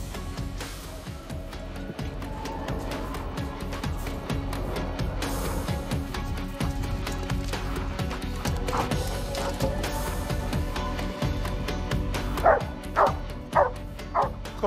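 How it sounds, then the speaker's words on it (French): A Belgian Malinois search dog barks after finding a hidden person, with repeated barks and yips over steady background noise, growing louder and sharper toward the end. "Quand le chien est aboie, eh ben on comprend qu'il a trouvé une personne."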